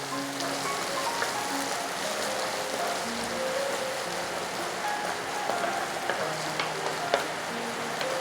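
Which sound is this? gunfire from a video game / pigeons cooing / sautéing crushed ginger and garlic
sautéing crushed ginger and garlic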